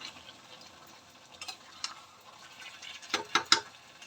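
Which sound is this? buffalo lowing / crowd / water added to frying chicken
water added to frying chicken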